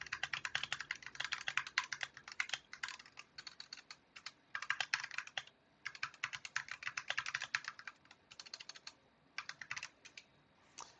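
Razer Huntsman Mini Analog gaming keyboard, model RZ03-0434, typed on in fast bursts of crisp, close key clacks separated by short pauses, no voice.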